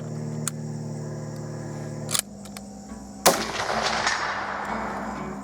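A Berthier M16 cavalry carbine fires a single loud, sharp rifle shot at a 100-yard range, its report ringing out and decaying over a few seconds after a stretch of quieter outdoor background with faint clicks.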